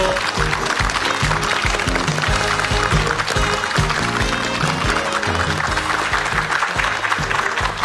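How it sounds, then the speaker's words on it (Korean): Studio audience applause welcoming a guest onto a Korean morning talk show, a loud, steady wash of clapping filling the whole stretch with no pause. "박수로 환영해 주시면 고맙겠습니다"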